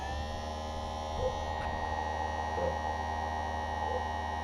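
A chain sharpening machine switched on and running idle with no load, giving a steady electric hum throughout, with a brief spoken word near the start.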